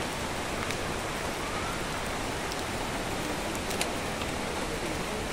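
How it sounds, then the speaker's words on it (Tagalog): Heavy rain pouring on a forest trail toward Taytay Falls in Majayjay, Laguna, a dense constant hiss of drops with no talk. "Ang lakas nga lang ng ulan dito."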